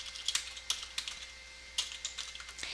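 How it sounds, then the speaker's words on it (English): Raw numbers tapped out on a computer keyboard: quiet, irregular keystroke clicks in short bursts with small pauses, close and alone. "Now notice I'm just keying in raw numbers here"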